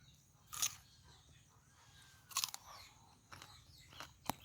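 A few sharp crunchy bites and chewing crackles of jujube fruit come in separate bursts, close and crisp, with quiet pauses between them.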